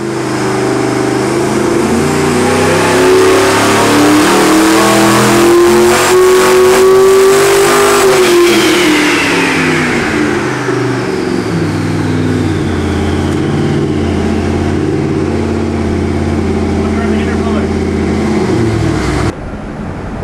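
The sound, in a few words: Nelson Racing 632 twin-turbo engine revving on dyno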